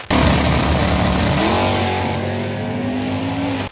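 A Ford 351 Cleveland V8 engine roars loud and close in one sustained, throaty run, its pitch sliding gradually lower before it cuts off abruptly, with no voices.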